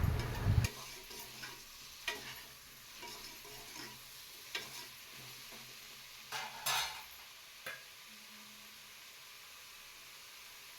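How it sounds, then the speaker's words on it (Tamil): Mushrooms sauté in oil with tomato and green chili, with a soft, low sizzle under scattered scrapes and taps of a spoon stirring the pan. "அதே போட்டு நல்லா வதக்கி விட்டுறலாம் எண்ணெயில்."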